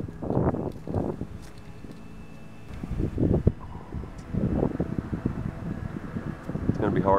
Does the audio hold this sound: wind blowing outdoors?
yes